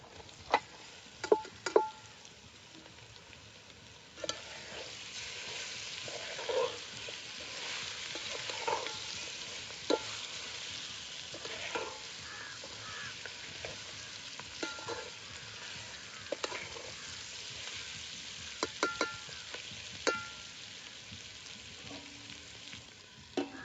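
Mutton pieces frying with turmeric and salt in a hot pan, a soft steady sizzle broken by scattered clicks and scrapes of stirring, close by with no talk.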